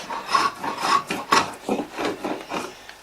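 Wood is rubbed lightly by hand while a chair is made, giving a soft rasping scrape in repeated back-and-forth strokes. The strokes are close and steady, about two per second, with no voices.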